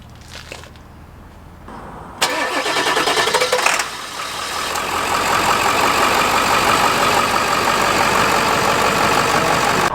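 A dually pickup truck engine starts up with a burst, then settles into a steady, loud running rumble that continues to the end.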